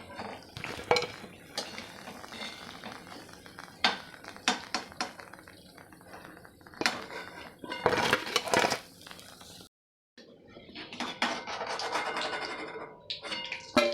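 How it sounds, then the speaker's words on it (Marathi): Moong dal kachoris deep-frying for a festive snack, with clinks and scrapes of utensils against the pan over a steady oil bubble, a brief pause near the end before the busy frying resumes. "आता मी सर्व कचोऱ्या तळून घेते"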